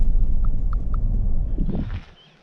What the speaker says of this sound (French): il y a des chevaux qui traversent la route tranquillement là.